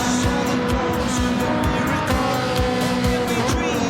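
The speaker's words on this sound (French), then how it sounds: "pleine charge sur cette ligne droite." Ferrari race car at Suzuka under full throttle on a straight, a loud continuous engine roar with repeated short gear-change surges, heard close up from onboard with no talk.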